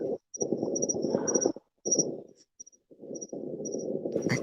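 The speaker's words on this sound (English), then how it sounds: "I hear the crickets in the background." Crickets chirp in the background in short, high, intermittent bursts, faint behind a low, muffled murmur that comes and goes.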